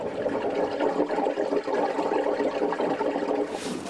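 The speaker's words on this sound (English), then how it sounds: "You can really hear the, the sound of the water bubbling in this crack." Meltwater bubbling and gurgling in a crack in the Greenland ice sheet, a continuous churning rush of water, fairly close and steady with no voices.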